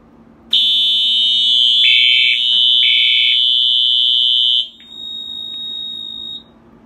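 A Silent Knight 5820XL fire alarm panel blares a loud, steady electronic tone that dips briefly twice. It then drops to a fainter, thinner tone before cutting off.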